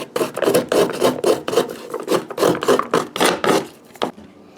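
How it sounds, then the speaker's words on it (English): Ginger grated on the fine side of a hand grater, a rapid series of rhythmic rasping strokes, close and clear with no voices. "So we have to grate our ginger."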